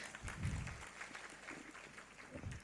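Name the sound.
audience applause at symposium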